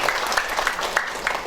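A seminar audience at a public discussion in the Garden Hotel claps for two speakers, with steady dense applause filling the room throughout.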